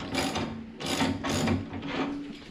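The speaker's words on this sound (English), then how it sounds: "all you need to take it off is one tool. So 1 1/8 inch drive wrench" A 1 1/8 inch drive wrench ratchets against a 3/4 inch bolt on a Honda Grom's leaning sidecar mount, with three quick bursts of clicking pawl strokes heard up close.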